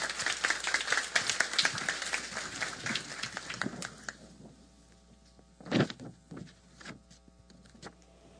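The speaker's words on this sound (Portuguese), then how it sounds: "Vamos recebê-lo com um aplauso de boas-vindas" Audience applause welcoming the guest speaker at a Café Filosófico evening talk on internet and economics, a few seconds of moderate clapping that thins out and fades to scattered claps and room noise.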